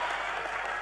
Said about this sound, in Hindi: अगली पंक्ति पर तालियों का कोलाहल हो ताकि तीनों शेर सुना पाऊं